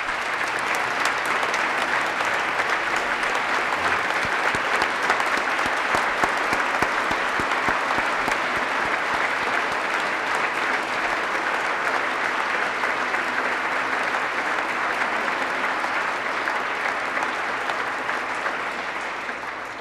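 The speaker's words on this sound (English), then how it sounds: "let's give him a round of applause as well" An audience in the Minnesota House chamber applauds on the opening day of a legislative session, with dense, steady clapping from many hands lasting about twenty seconds without a break.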